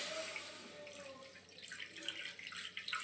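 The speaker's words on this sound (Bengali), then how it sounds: "জলটা দিয়ে দিলাম" Water pours steadily into a cooking pot for khir pitha, the sweet rice cake, a continuous close splashing rush that grows slightly louder toward the end, with no voices.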